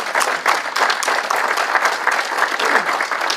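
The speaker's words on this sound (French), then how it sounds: "On peut les applaudir?" A church congregation claps together, loud and close, a thick wash of many hands with a few sharper individual claps poking through, sustained without pause.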